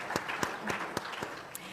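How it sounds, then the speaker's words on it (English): Scattered applause from a small meeting audience, a handful of distinct, sharp claps spaced irregularly over under two seconds, with a voice faintly beneath. "So a big round of applause once again for all of us."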